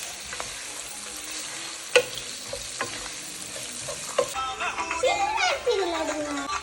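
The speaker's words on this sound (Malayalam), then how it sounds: "ഈ ഉള്ളി ഒന്ന് താഴ്ന്ന വരെ നമുക്കൊന്ന് മിക്സ് ചെയ്ത് കൊടുക്കാം" Chilli and onion fry in a pan for a dhaba-style chicken curry, a close sizzle with scraping stirs, while voices, including a child's, talk over the latter part.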